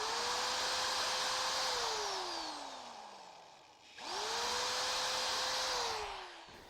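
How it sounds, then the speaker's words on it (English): A power drill boring pilot holes for hinge screws in a raised panel cabinet door stile, running in two loud whining bursts, each spinning up, holding, then winding down, with no talking. "drill your pilot holes for the screws"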